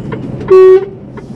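A single short blast of a truck horn, loud and brief, over steady road and engine rumble.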